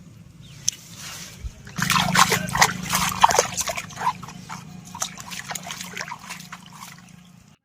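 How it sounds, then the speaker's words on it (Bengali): Cabbage being rinsed in pond water: bursts of splashing, trickling and dripping water with handling noises, starting after a quiet moment and continuing unevenly before tapering off, close by and with no speech. "আমি পুকুরের জল একবার ওয়াশ করে নিচ্ছি"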